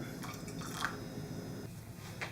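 Bypass water poured from a kettle into brewed Aeropress coffee in a cup, a soft close trickle with a few light drips and splashes, quiet and without talking.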